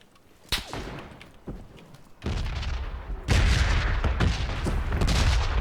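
Gunshots from the battle royale game PUBG, including an AWM sniper rifle, crack as sharp separate reports early on, then give way to loud, dense continuous firing and booming that fills the rest of the clip.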